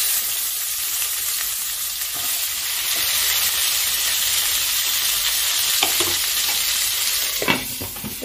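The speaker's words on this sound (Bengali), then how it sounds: "এগুলোকে আমি এখন ভেজে নিচ্ছি।" Pieces of pointed gourd (potol), rubbed with turmeric and salt and trimmed at the ends, fry in hot oil for a moong dal potol dish, giving a continuous close sizzle with occasional stirring clinks near the end.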